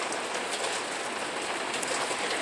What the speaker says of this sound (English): It's raining, hailing.